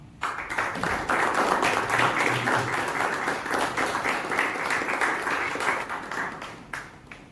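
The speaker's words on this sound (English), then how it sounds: "Now we'll have a round of applause for him." An audience at a Toastmasters club meeting applauds with a dense burst of clapping that swells quickly, holds steady for several seconds and then thins out, close and loud.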